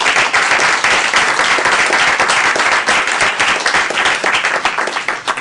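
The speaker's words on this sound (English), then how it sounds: "we'd be remiss if we didn't give them a round of applause" Board of education meeting audience applauding teachers who received tenure, a dense burst of many hands clapping that continues steadily, close and loud.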